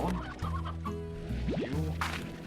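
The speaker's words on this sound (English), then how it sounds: "There's another hen in here." Several hens clucking close by in the video game Slime Rancher, low repeated clucks with a couple of rising squawks, over a faint steady background hum.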